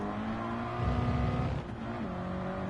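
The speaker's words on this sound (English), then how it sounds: "Ah, I hit the rev limiter." Car engine hitting the rev limiter during a Gran Turismo 7 road car race, a steady, loud droning engine note with a brief surge, then a drop in pitch near the end.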